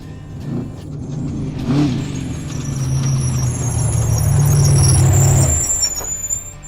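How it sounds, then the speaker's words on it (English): A Baja 1000 off-road race car rumbles into a pit stop, its engine swelling and then cutting off, with a high whine and some hiss of air near the end. "Let's check out Cameron pulling up here to BFG Pit 5."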